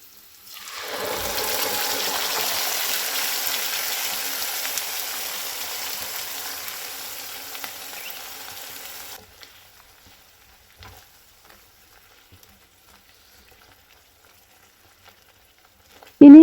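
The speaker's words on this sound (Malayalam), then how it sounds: "ഇനി ഇതിലേക്ക് നമ്മൾ നേരത്തെ അരച്ചു വെച്ച ഒരു സവാള ടൊമാറ്റോ പ്യൂരി ഉണ്ടല്ലോ," Onion and tomato puree added to hot oil for a green peas masala, a loud sizzling hiss that swells in suddenly, holds for several seconds, then cuts off into near silence.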